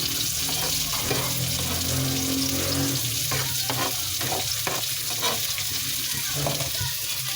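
Garlic and onion sizzle in a hot pan, a steady close frying hiss broken by scattered clinks and scrapes of stirring.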